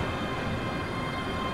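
A ScotRail Class 385 electric train in Train Simulator rolls steadily on the Alloa route, giving a constant low rumble and hum of wheels and motors, even and unbroken with no voices.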